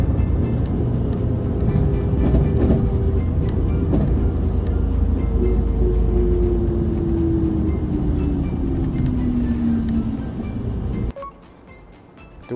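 A train rumbles steadily along the track with a slowly falling tone as it pulls into Kesennuma Station in Japan, then the noise drops away abruptly near the end as it comes to rest.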